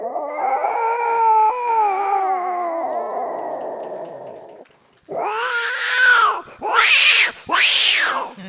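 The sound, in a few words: voice imitating an angry cat confronting an intruding cat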